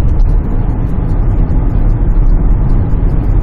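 Hyundai Santa Fe DM engine while driving at around 60, a loud, steady low rumble of engine and road noise inside the car with no pause.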